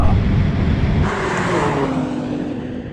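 BMW M4 cars accelerating hard in a drag race, a loud engine roar that shifts pitch about a second in and then slowly fades as the cars pull away.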